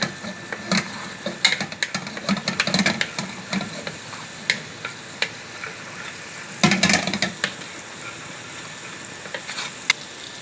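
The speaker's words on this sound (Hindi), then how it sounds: "अब इसको थोड़ा सा हमको इसको हिलाएंगे, थोड़ा सा प्याज जो ना नरम हो जाए।" Onions fry and sizzle in melted butter in a pan while a spoon stirs them, with repeated scraping clatters over a steady hiss, close by and fairly loud.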